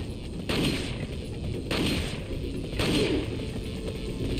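Gunfire from Resident Evil 4 HD as enemies are shot, heard as three loud, booming bursts spaced about a second apart over a dense, rumbling game soundscape.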